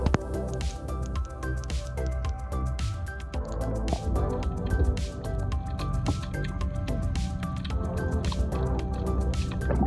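Wet splashing and dripping water sounds, busy and continuous, close and fairly loud, as a fishing bird dips and splashes its beak in the water to attract fish.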